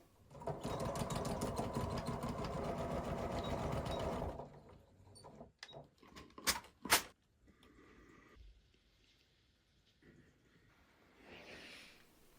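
A sewing machine stitches the seams of pleated trousers with a half-inch seam allowance in a fast, close, steady run for about four seconds, followed by quiet handling clicks and rustles.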